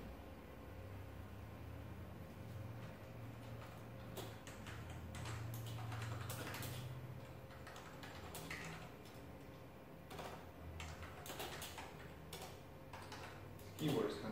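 Keys clacking on an old Apple keyboard for a Mac IIcx, a string of sharp clicks and taps over a steady low computer hum, with a faint voice murmuring in the background.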